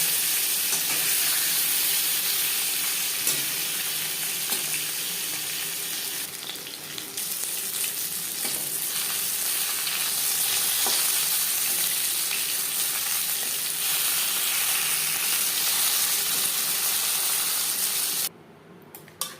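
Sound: fish frying in a large wok

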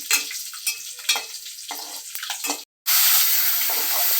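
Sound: curry leaves sizzling in hot oil

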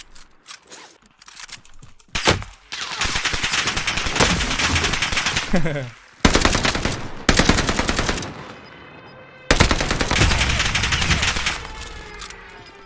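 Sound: Cooper Carbine machine gun fire in video game Warzone Pacific

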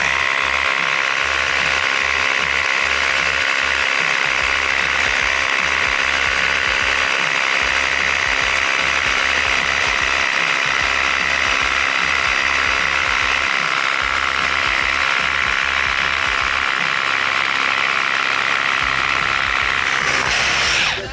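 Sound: 40 volt rotary hammer running

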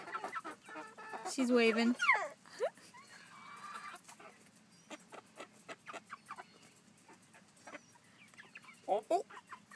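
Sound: chickens clucking in a chicken coop

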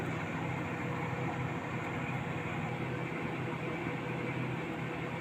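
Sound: microwave oven running, cake tray turning inside

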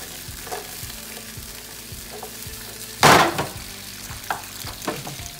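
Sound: food sizzling in a hot pan

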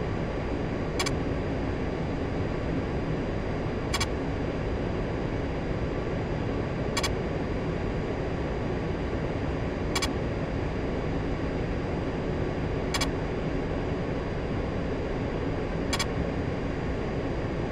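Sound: A-10C aircraft landing in DCS video game

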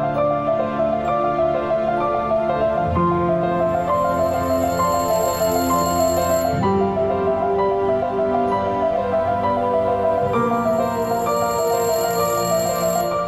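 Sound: telephone ringing

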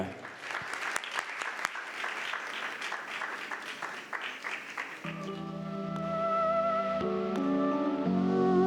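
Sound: audience applause for dance couple

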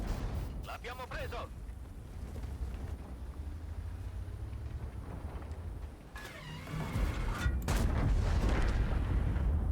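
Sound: artillery shell hitting in the video game World of Tanks

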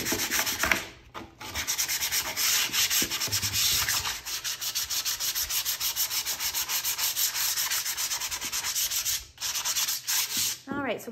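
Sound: sanding paint off a vintage wooden sled

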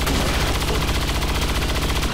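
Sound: gunshot from the video game XCOM 2

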